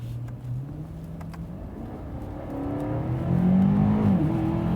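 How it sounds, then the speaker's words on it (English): A 2020 BMW M8 Competition Gran Coupe accelerating, its engine note climbing steadily in pitch and loudness from inside the car, a continuous rising drone over about five seconds, no talk. "let's do just maybe a little bit of an acceleration here"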